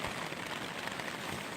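Rain falls steadily on a mountain campsite near a tarp-covered shelter, a dense, even hiss of drops with no talk.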